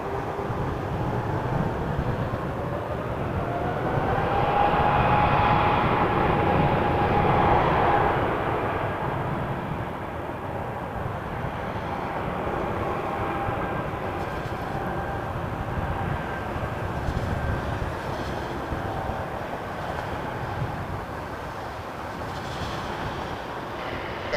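A Porter Embraer 195 airliner bound for Vancouver takes off from runway 23 at Toronto Pearson, a broad sustained jet roar that swells and then holds steady at a distance.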